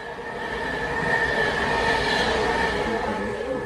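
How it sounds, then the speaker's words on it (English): Express train bound for London Euston passing close by at a station near Motherwell and Mossend, a loud continuous rumble of wheels and rail with a squealing tonal whine, steady throughout with no talk. "we're waiting for an express train"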